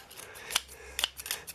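Hand shears snip grass, several quick close metallic cuts in an irregular rhythm, with no talking.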